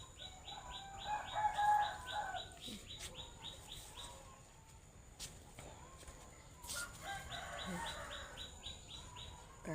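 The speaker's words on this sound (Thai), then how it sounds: "เสียงไก่" Chickens cluck and a rooster calls in a rural yard during a morning coffee break, with small birds chirping and wings flapping around them, the fowl rising in two bursts of activity.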